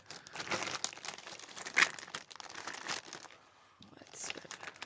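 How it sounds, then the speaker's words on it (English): A package is cut open and its plastic wrapping crinkled and torn close up, with dense crackling rustles and a sharp tear near the middle, fading to quieter handling at the end. "Let's see what this package is going to be. I'm gonna cut it open."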